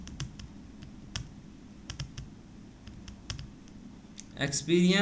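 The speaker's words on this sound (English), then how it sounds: "Okay, we will type first cell of the second row." Keys on a computer keyboard are typed in scattered, fairly quiet clicks during a Word simulation exam, with a louder voice breaking in at the end.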